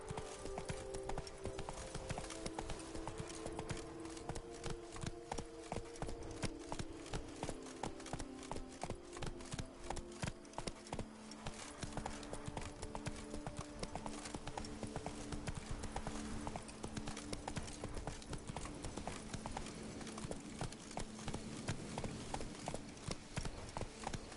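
Hoofbeats of Roach, the horse in The Witcher 3, a steady clip-clop of hooves trotting continuously over ground, with game music beneath.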